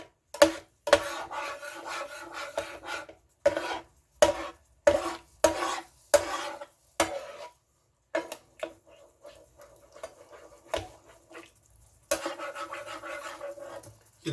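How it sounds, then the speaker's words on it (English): Spatula scraping and stirring onion gravy with meat drippings across the bottom of a pan, a series of rasping, rubbing strokes in short bursts with brief pauses, close and fairly quiet, no talking. "Get the drippings off the bottom of the pan, because that's where a lot of your flavor is going to come from."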